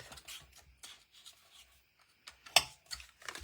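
Paper being creased and folded into a box, soft scattered rubs and scrapes with one sharper crinkle midway, quiet and close with sparse gaps between strokes.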